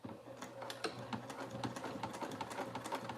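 A sewing machine stitching a packing pod runs in a fast, even chatter of needle strokes, steady throughout and fairly quiet, heard up close with no talk.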